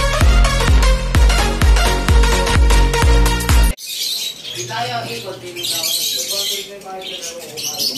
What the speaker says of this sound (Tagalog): puntahan ko na yung mga mayroong itlog na aking alagang lovebird